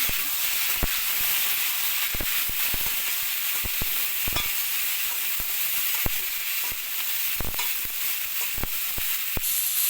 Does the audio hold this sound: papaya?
yes